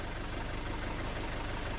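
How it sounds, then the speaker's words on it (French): A car engine idles steadily nearby, a low rumbling hum with a faint rhythmic knock, unbroken and moderately quiet for the whole short stretch. "laissez le moteur tourner"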